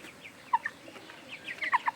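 Chickens cluck softly while eating feed, several short bright calls scattered irregularly over faint background noise, with a small cluster near the end.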